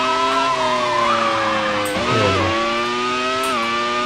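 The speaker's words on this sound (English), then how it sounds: "Sounds like a V10 engine, which they used back in the day" A V10 racing car engine in the PC video game Grand Prix 3 screams at high, steady revs, dipping briefly as it shifts down and then climbing again, loud and continuous.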